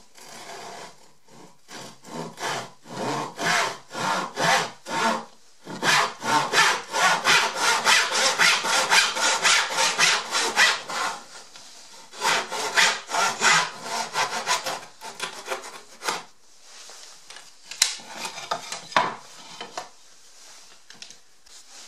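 A crosscut saw cuts away wood waste on a bench hook, with steady rhythmic back-and-forth strokes up close, some pauses and shorter strokes near the end.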